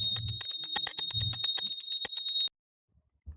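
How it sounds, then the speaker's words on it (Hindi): Small handheld puja bell rung during a food offering to Laddu Gopal at a home shrine, a bright rapid metallic tinkling for about two and a half seconds, close and loud, then abrupt silence. "गोपाल जी को जब भोग लगता है तो घंटी ज़रूर बजती है।"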